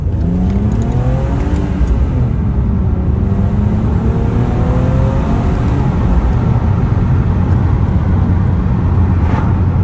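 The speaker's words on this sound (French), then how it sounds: "Donc maintenant, essai routier du coup avec les nouvelles bobines en place." A BMW E46 with the M54B30 engine on a road test after new ignition coils were fitted: a steady, loud in-cabin engine drone whose pitch rises and falls with acceleration, over constant road rumble.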